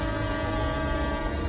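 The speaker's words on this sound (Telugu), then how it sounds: "అరే, ట్రైన్ వచ్చేసింది." A train arrives with a loud, continuous rumble and sustained tonal horn, filling the whole moment without pause.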